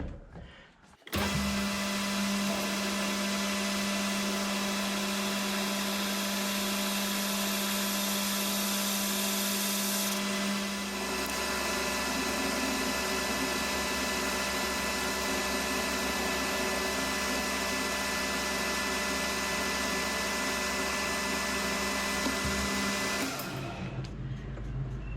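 Lathe facing off a metal part for a wobbler engine build: steady, loud motor whine with strong harmonic tones, running nearly continuously and shifting pitch partway through before stopping near the end.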